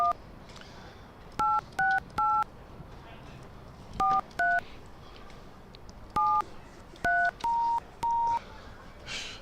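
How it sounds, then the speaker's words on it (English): A series of short two-tone telephone-style beeps arrives in irregular clusters over a cricket match broadcast feed, crisp and clear over a faint, quiet background. "you will hear these beeps right now"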